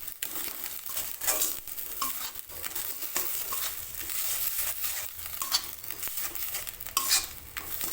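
Ghetkol paste being stirred in a pan over medium gas heat, a steady sizzle with scraping strokes of the spoon recurring every second or so, close and fairly loud throughout, no talking.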